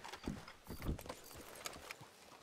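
Horse hooves clip-clop in Red Dead Redemption roleplay (RedM), a few soft, uneven hoofbeats up close, fairly quiet and without talk.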